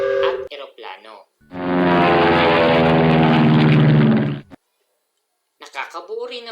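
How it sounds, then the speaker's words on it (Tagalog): Airplane propeller engine droning in a loud, steady rumble for about three seconds between stretches of a person talking. "at eroplano."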